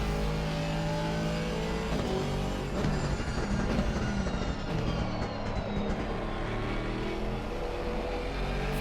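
A Porsche race car engine in a sim racing game at Zolder, a steady loud roar with rising and falling revs and whining gear tones throughout, no voices.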